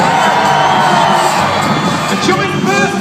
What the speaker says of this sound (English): Make some noise for Dave